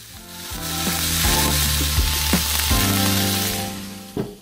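Parmesan-crusted steaks searing in oil on a Blackstone griddle, a loud close sizzle rising and holding, with a few sharp scrapes and a clack near the end.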